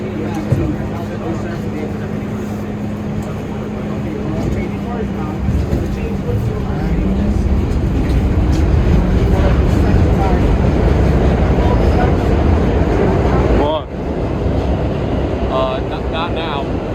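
An R32 D Express subway train runs along the line toward 145th Street, a loud steady rumble and roar of the car in motion, heard from onboard, with a brief drop near the end.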